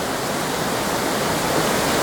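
A large waterfall on the Bolaven Plateau in Laos roars with a dense, steady, loud rush of falling water, unbroken and alone.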